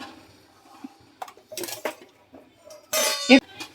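A metal thali is lifted and set down upside down in a home kitchen, giving a few light clinks and a sharper metallic clank near the end, heard close and alone.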